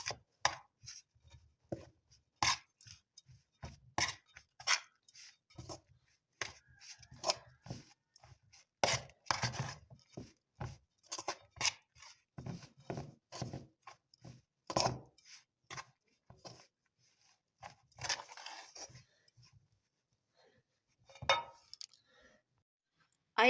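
Coconut cookie dough being mixed in a bowl by hand, heard as faint, irregular clicks and scrapes with quiet pauses between them.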